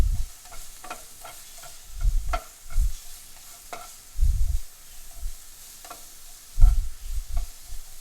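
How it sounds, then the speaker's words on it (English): Onions are stirred in a pan for seekh kabab salan, with repeated scraping strokes and low thumps of the utensil against the pan over a gentle sizzle, close and without speech. "Let me stir my onions"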